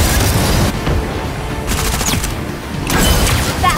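Gunfire in the battle royale game Super Mecha Champions rattles in loud, rapid, overlapping bursts, with short lulls between volleys.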